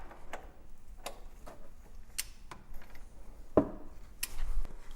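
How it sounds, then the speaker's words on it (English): A Tekton torque wrench ratchets on an oil cooler bolt of a 2005 Infiniti G35: close, crisp clicks spaced irregularly over a few seconds, with one sharper snap near the end and no talking. "we're going to need to tighten that bolt to 36 foot-pounds of torque"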